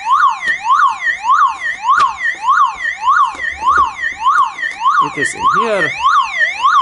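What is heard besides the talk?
car alarm sounding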